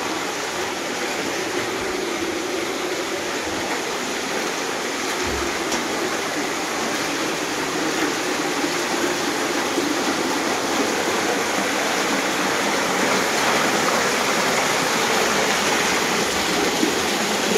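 Loud, steady rush of churning floodwater during Typhoon Uwan that never lets up, a dense roar filling the whole stretch with no voices.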